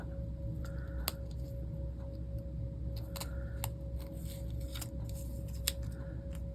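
Scissors snip a paper label in a short series of crisp, close cuts, with pauses between strokes over a faint steady background hum.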